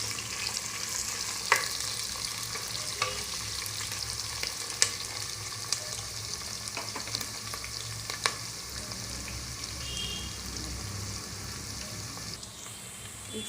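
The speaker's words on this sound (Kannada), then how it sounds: "ಸ್ವಲ್ಪ ಚೆನ್ನಾಗಿ ಫ್ರೈ ಮಾಡ್ಕೊಂಬಿಡಿ." Onions frying in a pan for avalakki bisibelebath, a steady soft sizzle running throughout with occasional light taps and scrapes of stirring, fairly quiet and close.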